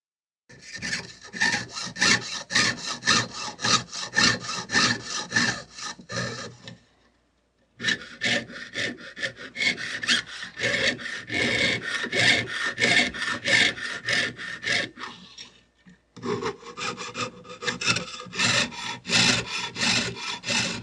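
Layers of bronze, copper or silver for an artwork are cut out with a saw in fast, steady back-and-forth strokes, close and loud. The cutting runs in three long bursts separated by brief pauses.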